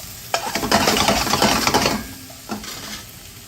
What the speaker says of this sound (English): you want the onions slowly to caramelize